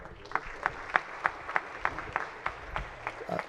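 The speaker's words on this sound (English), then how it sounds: "let's give them a big round of applause" A chamber of people applauds Senate pages, with a brisk run of fairly faint hand claps heard in a large hall.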